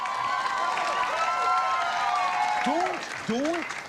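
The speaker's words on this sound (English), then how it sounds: "Do not applaud a penis joke." Studio audience applause and cheering on a late-night talk show, a broad wash of clapping with whoops and rising voices on top, moderately loud throughout.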